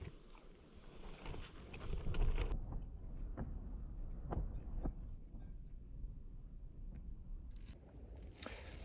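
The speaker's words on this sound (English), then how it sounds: "the heavy wind that they were forecasting is starting to come in. It's definitely picked up" Strong gusting wind buffeting a tent pitched on Dartmoor during a wild camp, a low rushing roar that swells and eases close to the microphone, with occasional flaps and knocks.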